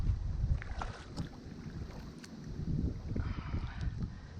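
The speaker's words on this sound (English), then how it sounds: "Paddling up into the grass like this." A kayak is paddled through Tropical Storm Eta flood water up into submerged grass, giving steady sloshing and scattered splashes under a constant hiss of wind against the microphone.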